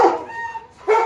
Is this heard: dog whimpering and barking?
yes